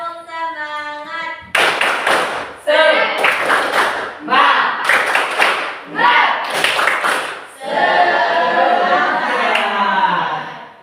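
A class performs rhythmic spirit clapping in sharp patterned bursts of claps and taps, with a voice speaking or chanting before and between the clapping sequences.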